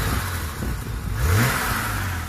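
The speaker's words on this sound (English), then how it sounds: "And give some more revs." A BMW M5 Competition engine revs up briefly, the pitch rising then settling back into a steady idle, close and moderately loud.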